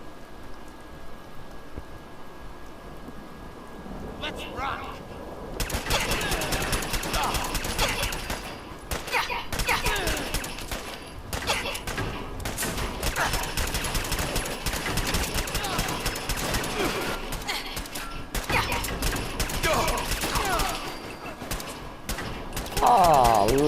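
Rapid bursts of gunfire from the game Fallout 4 crackle in dense, sustained volleys after a quieter opening, loud and continuous, with a person talking over the action at times.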